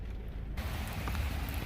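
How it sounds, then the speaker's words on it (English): Heavy rain pours outdoors beside a railway line in Leetsdale, Pennsylvania: a steady, dense broadband wash of rainfall that stays close and even throughout, with no voices. "All right, it's raining,"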